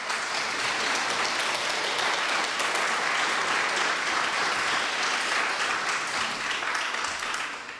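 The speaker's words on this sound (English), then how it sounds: "Round of applause." A live audience at a public NPR Illinois evening event breaks into sustained, dense applause, a steady wash of many clapping hands that holds at full strength for about eight seconds before easing slightly at the end.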